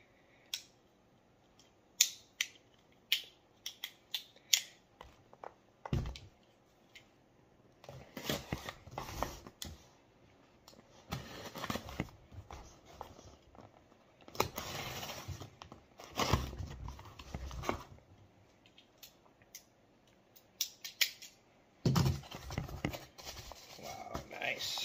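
A gift package of Tiny Goat small-batch roasted coffee gets unboxed up close, with scattered tearing, crinkling and snipping bursts coming in uneven spurts over nearly half a minute.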